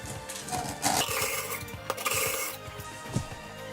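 A knife blade is drawn back and forth through a Rakuka Masamune sharpener. Close, rhythmic rasping strokes scrape steadily against a busy background, with faint metallic clinks and no talking.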